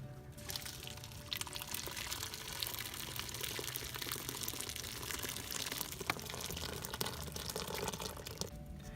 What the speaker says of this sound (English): Now we'll go ahead and pour it through a filter.